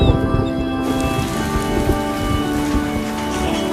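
Rain in a Budweiser Clydesdales commercial falls as a steady, dense patter with faint thunder-like rumble, loud and continuous, with a sustained musical tone running underneath.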